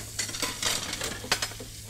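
Dishes and a frying pan being washed in Emily Wants To Play Too, short clattery scrubbing and splashing bursts with a couple of sharper knocks, close and fairly loud, no voices.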